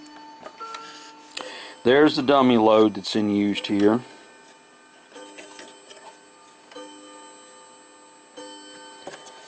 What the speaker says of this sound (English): There's the clock chiming.